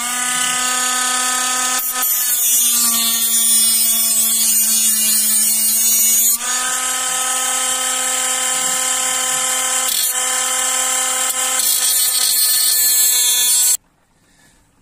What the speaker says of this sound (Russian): Поэтому берем гравер и срезаем.